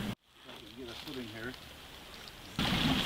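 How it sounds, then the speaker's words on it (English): Wood frogs call from small pools in a deep forested gorge in Hocking Hills, giving a few soft, quacking clucks in short bursts over faint, steady outdoor water and ambient noise. "Yeah, I think you're right. Those are wood frogs."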